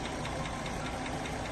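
A 1966 Rover P5 Coupe with its 3 litre engine idling very quietly, a steady low, smooth mechanical hum with faint ticking, almost hidden under ambient noise and with no talk.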